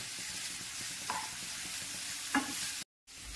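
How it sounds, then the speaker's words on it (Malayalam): Ginger and garlic, crushed and salted, sautéing in a pan with a steady broadband sizzle, a couple of brief scraping stir strokes near the end, then a short dropout before the frying resumes. "ഇനി ഇതെല്ലാം കൂടെ ഒന്ന് വഴറ്റിയെടുക്കാം."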